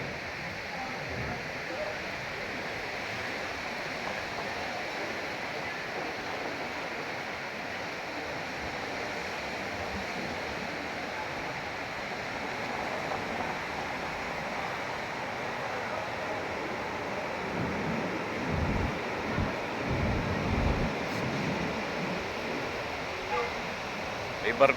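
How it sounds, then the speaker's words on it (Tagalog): Steady broadband roar of sea surf and strong wind at a beach resort in Urbistondo, San Juan, La Union, continuous and fairly loud throughout, with a few heavier gusts or wave surges near the end. "Ganda ng dagat, lakas ng hangin."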